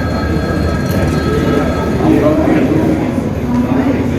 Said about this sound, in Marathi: आस्था स्पेशल ट्रेन सोळाशे प्रवाशांना घेऊन निघाली